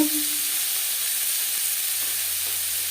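Brahmi greens fry in a pan with cumin and chilli, giving off a steady, even sizzling hiss that holds unbroken throughout with no voices.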